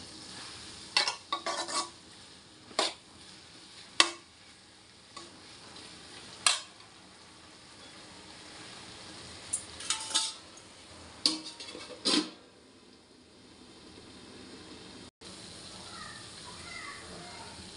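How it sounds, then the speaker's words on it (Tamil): Vegetable curry with a ground paste of coconut, ginger, garlic and fennel being stirred in a pan: scattered clinks and scrapes of a spoon against metal over a soft sizzle, with talk at times. "அதையும் ஊற்றிட்டு நல்லா கலந்து விட்டுறலாம்"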